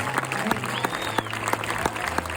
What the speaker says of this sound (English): give them another heartfelt round of applause